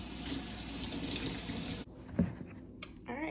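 Tap water pours steadily into a sink while sea moss is rinsed, a close, continuous splash that stops partway, followed by a few faint clinks and rustles.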